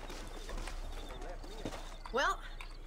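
A war horse's hooves in the Western video game Red Dead Redemption, a soft rhythmic clip-clop under a man's speech, with a short louder burst near the end.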